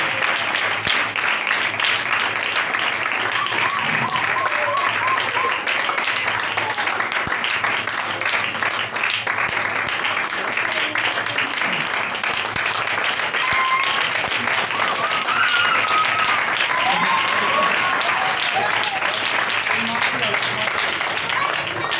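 A gathered congregation applauds during a gift presentation at a church family event, a long, loud and sustained wash of clapping from many hands with a few voices mixed in.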